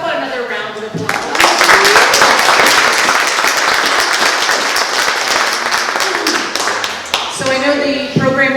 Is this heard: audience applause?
yes